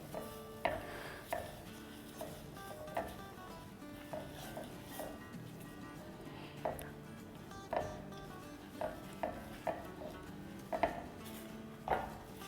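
Kunafa vermicelli being mixed in a pan over a medium flame, with repeated light clinks and scrapes of a spoon against metal at an uneven rhythm, quiet and close.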